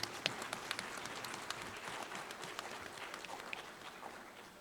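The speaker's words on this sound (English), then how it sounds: "May we have a round of applause for Madam" A welcome-address audience at a Meghalaya adventure tourism event gives a round of applause, faint and distant, a light patter of many claps with a few sharper ones standing out.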